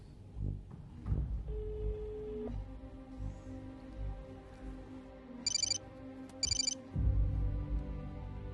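Telephone rings in two short electronic bursts about a second apart, fairly clear above a quiet room with low rumbling background sounds and no talk.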